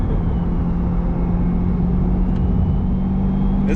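A Chevrolet Corvette C8 engine drones loudly and steadily from inside the car during a ride, a deep constant rumble with a firm low hum and no speech over it.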